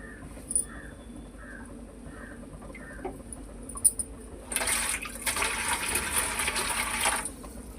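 Food frying in a clay pot gives a steady hiss that swells loudly for about three seconds near the end, after a few faint clucks and small knocks.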